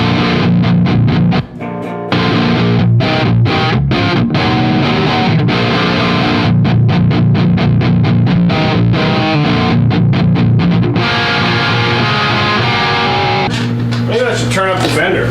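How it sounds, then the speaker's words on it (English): An electric guitar plays through a Sovtek MiG-50H amp into a vintage Marshall 1960 cab, miked with an SM57 and a Sennheiser MD421. It gives loud, heavily distorted, chugging rhythm riffs with sharp stops and palm-muted bursts, with brief talk near the end. "My other amp is a Sovtek MiG-50H, and it's running into a Marshall 1960, a vintage cab."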